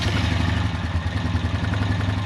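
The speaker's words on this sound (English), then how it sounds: "Let's put it in neutral and fire it up here" Honda Rancher EFI ATV engine idling close by: a steady, loud, throbbing low putter with a clattering mechanical rhythm, even and unbroken throughout.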